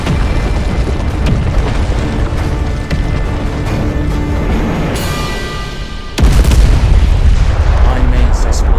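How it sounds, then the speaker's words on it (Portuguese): A huge cartoon explosion booms from an anime battle between Vegeta and Freeza, a loud, sustained roar with a sharp burst about two-thirds through that leaves an even heavier rumble. "A imensa explosão deixou o ambiente coberto por fumaça."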